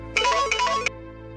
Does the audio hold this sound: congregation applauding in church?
no